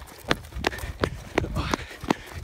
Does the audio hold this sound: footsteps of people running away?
yes